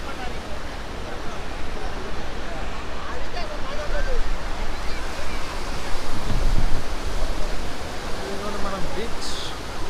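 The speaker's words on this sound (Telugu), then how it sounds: "బీచ్ మంగెనపూడి బీచ్లో ఉన్నాం అన్నమాట" Ocean surf washing steadily at Manginapudi beach near Machilipatnam, a continuous broadband roar of breaking waves mixed with wind buffeting the microphone, with no clear speech.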